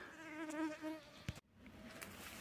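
Mosquitoes whine steadily in a cool June forest in Vladimir region, a thin close buzz that wavers in pitch and runs on behind a brief knock.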